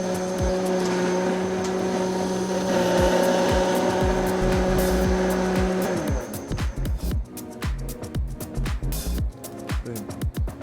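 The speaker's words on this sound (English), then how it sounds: "all it is blending butter into a white wine based stock" A blender whirs loudly and steadily while blending butter into a white wine and clam stock, running for about six seconds before cutting off, followed by clattering kitchen noise and rattling.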